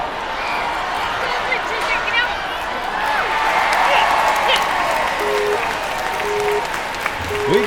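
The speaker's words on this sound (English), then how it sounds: "We got cheering going on here for a finisher over on the adult course as Mindy Hilton gets her run started" Crowd cheering and applause for a finisher on the adult course at the 2020 NNL World Championship ninja competition, a steady broadband roar with claps lasting throughout, with a commentator talking over it.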